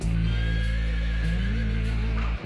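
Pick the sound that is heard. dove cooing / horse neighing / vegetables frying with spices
horse neighing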